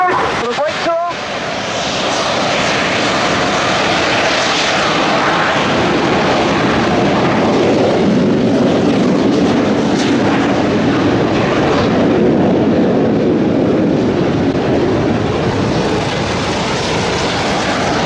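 Red Arrows jets with Rolls-Royce engines spool up and roll for takeoff at an air day at Yeovilton, a loud, sustained roaring rush that swells and holds for the whole stretch after a brief voice at the start.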